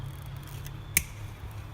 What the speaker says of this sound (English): I'm going to just cut this pointy end off here real quick